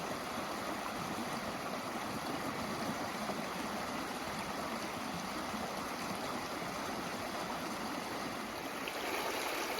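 Stream water flowing steadily at Malham Cove in the Yorkshire Dales, a continuous close rush and babble with no voices.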